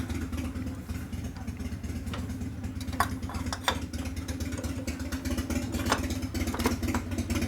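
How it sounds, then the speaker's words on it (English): A 1988 Harley FXR motorcycle engine running nearby with a steady, throbbing low rumble and a few sharp clicks over it. "Sounds like an FXR."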